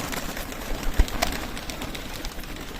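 Pigeons coo softly at a feeding spot, faint and low under a steady wash of outdoor background noise, with one brief soft knock partway through and no talk.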